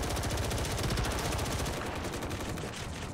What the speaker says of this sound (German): Ich schieß es kaputt. Ich schieß auch mal drauf.